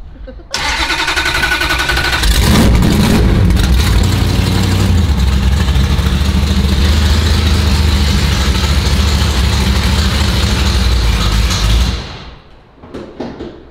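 A Plymouth Duster's old 340 V8 engine, after sitting for 22 years, starts and roars loudly close by, holding a heavy rumbling rev for several seconds before dropping away.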